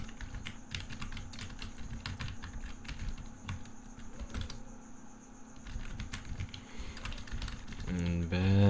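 Steady rapid clicking of keys on a computer keyboard, continuous typing at close range with a low background hum.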